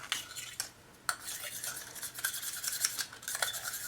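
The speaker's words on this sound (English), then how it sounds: "Let's go and stir our black." Diluted black paint for card making is stirred in a small container, giving quick scraping, clinking swirls near the microphone, pausing briefly before resuming in a steady scratchy rhythm.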